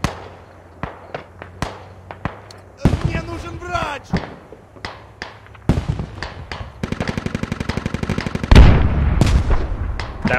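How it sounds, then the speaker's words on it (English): Booming cannon blasts from an enemy tank in a multiplayer war video game, among a dense run of sharp gunfire cracks and rapid automatic bursts, with a heavy explosion near the end. "That was an enemy tank, did you hear that?"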